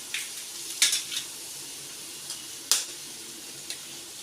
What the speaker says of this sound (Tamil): ஆயில் ஊற்றிக்கிட்டு இந்த முட்டையை வந்து இதில் உடச்சி வைப்போம்.